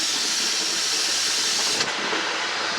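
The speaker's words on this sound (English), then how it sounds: "I presume there's going to be a lot of steam" Steam hisses steadily and loudly from a pressure canner lid being released, a continuous broadband rush that drops slightly in intensity near the end.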